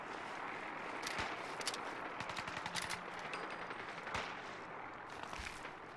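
Gunfire from the video game Fallout 4 crackles in rapid bursts and scattered single shots over a dense, busy game soundscape, with no talking.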